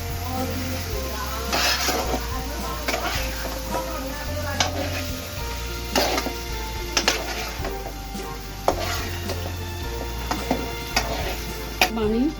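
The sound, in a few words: food frying and being stirred in pan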